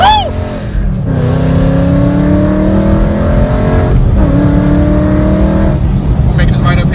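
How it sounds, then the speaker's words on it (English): A Ford Mustang 5.0 exhaust rumbles loudly and steadily while driving, its engine note climbing through sustained pulls with a brief dip between gears. Voices speak over it. "no matter the weather, I always like to hear like my exhaust."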